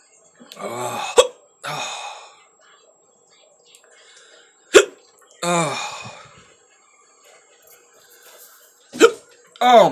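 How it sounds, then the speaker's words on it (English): A man hiccups several times after swallowing Dave's Gourmet Insanity hot sauce, sharp sudden hiccups spaced a few seconds apart, mixed with breathy groans and speech-like sighs. "instant hiccups."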